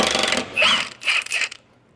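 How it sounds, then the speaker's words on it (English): Impact gun working on rusty frame bolts of a Jeep Wrangler TJ, giving three short close whirring, rattling bursts of hammering before falling silent. "See if we can get these out with the impact gun real quick."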